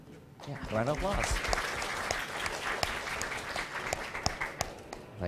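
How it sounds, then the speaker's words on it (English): An audience at an international pharmacy conference gives a round of applause, dense steady clapping filling the room for several seconds with a few louder individual claps, while a voice talks over it. "round of applause"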